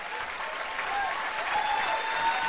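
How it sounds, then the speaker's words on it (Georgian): An audience at a singing contest final claps in sustained, even applause that swells slightly toward the end. "აპლოდისმენტები უფრო ხშირი."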